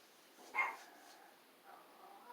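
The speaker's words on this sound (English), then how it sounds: "That's my mom's dog barking right there," A dog indoors gives one faint, distant bark, followed later by a softer second sound in an otherwise quiet room.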